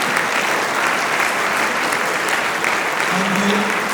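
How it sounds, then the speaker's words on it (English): A crowd at a silver jubilee celebration at St. Robert's HS School, Darjeeling, applauds a boys' performance. Loud, close, sustained clapping from many people stays at an even intensity throughout. "So please give a big round of applause which they deserve."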